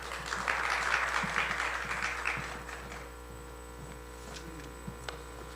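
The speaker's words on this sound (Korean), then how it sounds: "박수로 맞아주시면 감사하겠습니다." Audience applause welcoming a lecturer to a Reformed theology forum in Korea, a sustained wash of clapping that fades after about three seconds, leaving a steady mains hum and a few scattered claps.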